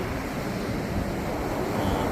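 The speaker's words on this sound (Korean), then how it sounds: "이쪽으로 바다가 넘실넘실 파도가 조금 높은 편이고" Fairly high sea waves roll onto a winter beach at Anmok on a cold, snowy day, making a steady broadband roar with wind, continuous and even, with no voices.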